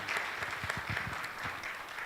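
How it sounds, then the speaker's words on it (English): Audience applause breaks out at a World Hydrography Day 2022 event, a steady wash of many hands clapping for a speaker, moderately loud and continuous for about two seconds with no talk over it. "give a round of applause to Mia"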